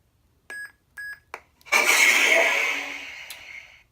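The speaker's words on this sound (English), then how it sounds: "you push and hold your auxiliary button until it beeps at you" A custom Corran Horn lightsaber gives three short electronic beeps while cycling sound fonts, then a loud ignition swell that settles into a steady hum.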